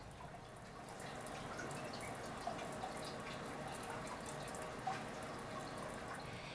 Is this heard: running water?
yes